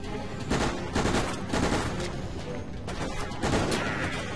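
Bursts of rapid gunfire aimed at zombies in Resident Evil: Operation Raccoon City, several loud volleys in quick succession over a dense, noisy game backdrop.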